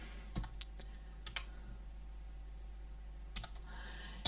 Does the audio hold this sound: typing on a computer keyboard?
yes